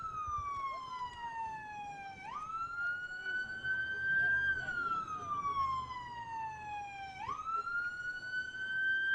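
A police siren wails, slowly rising and falling in long sweeps, fairly loud over background street noise at a protest in Little Rock.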